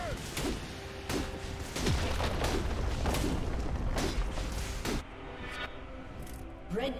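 A League of Legends turret being destroyed, heard as a cluster of loud booms and crackling impacts over a busy battle mix of clashing effects and faint background chatter.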